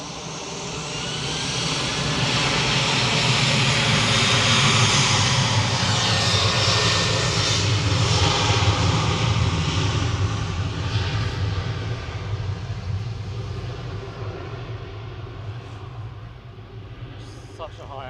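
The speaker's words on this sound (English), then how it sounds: "Nobody else seems bothered about the Antonov going over." An Antonov aircraft passes overhead near Manchester Airport, its deep engine drone swelling to a loud steady roar and then fading gradually, while a person talks throughout.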